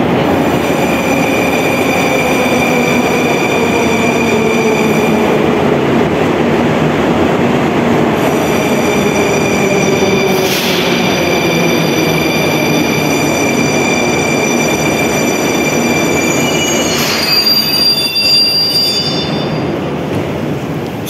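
A Moscow metro train pulls out of the turnback siding at Strogino station, a loud steady rumble of wheels and cars with high squealing tones and a sharper screech near the end, no voices.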